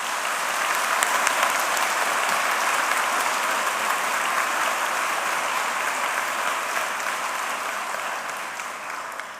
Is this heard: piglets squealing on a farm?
no